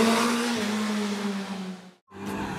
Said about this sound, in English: this motorcycle, which weighs over 266 kgs, does filter through the slalom without breaking a sweat